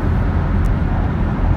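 Steady roar of car traffic crossing a bridge in the San Francisco Bay Area, a dense low rumble of many vehicles heard from nearby, continuous and without voices.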